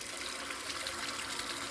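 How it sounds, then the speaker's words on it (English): Water drains steadily from household water lines through a ball valve, a continuous close hiss of flowing liquid with no breaks and no voices. "all the lines, water line need to be drained, really nice, well drained"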